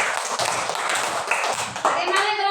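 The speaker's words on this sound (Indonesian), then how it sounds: "Oke, tepuk tangan." Pupils in a classroom clap together in a quick, brisk burst, close and fairly loud, with children's voices chattering over the clapping and a voice rising near the end.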